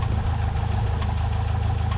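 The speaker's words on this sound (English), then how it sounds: "Engine's still running." Light aircraft engine idling on the ground during a first flight lesson's idle check, a steady low throbbing drone with a fine rhythmic pulse, loud and continuous with no talk.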